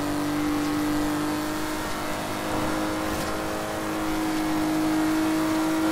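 A classic car's engine revs in the racing game Forza Horizon 3, a loud, sustained whining drone that climbs and holds, with no talking.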